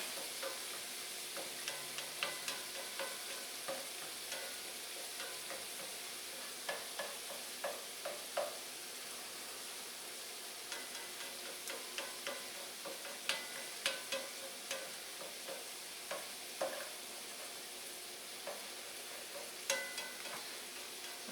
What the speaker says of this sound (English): I'm going to take my spatula before it cooks. Stir it around.